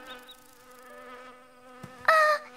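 Cartoon bees buzzing, a thin steady drone hovering nearby for a couple of seconds before brief louder bright sounds near the end.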